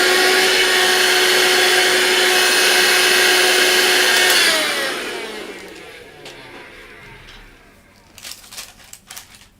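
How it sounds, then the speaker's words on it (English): A small vacuum cleaner lifts pastel dust off a bougainvillea painting with a loud, steady whine close by, then winds down and falls quiet, followed by a few light taps and handling sounds. "I need to vacuum this bit here, just so I don't press any of that pastel here."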